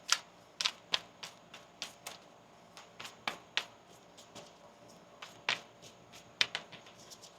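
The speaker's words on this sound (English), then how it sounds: "One more shuffle here." Tarot cards being shuffled, crisp light riffs and snaps coming in irregular bursts, close and fairly quiet, with no talking.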